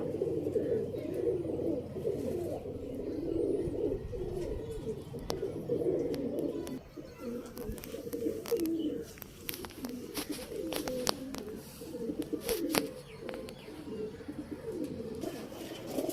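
Several paired pigeons coo continuously in low, throaty rolling calls, layered together nearby, with occasional sharp clicks and flutters mixed in.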